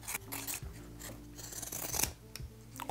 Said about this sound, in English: You can even trim down the sides a little bit to reduce the bulk.